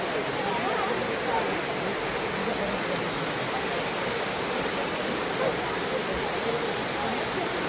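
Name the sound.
waterfall in Meghalaya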